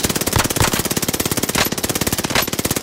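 Call of Duty: Modern Warfare automatic gunfire rattles in a rapid, continuous burst of evenly spaced shots, loud and close, with no voices over it.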